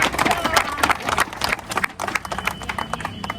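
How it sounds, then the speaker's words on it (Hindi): An audience claps in loud, dense applause to welcome a speaker at a gathering, a sustained burst of many hands clapping at close range. "उनके लिए जोरदार तालियों से स्वागत करें"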